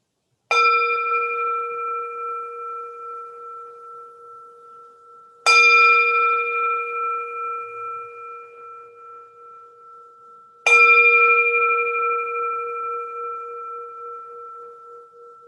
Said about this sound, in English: But first, 3 bells.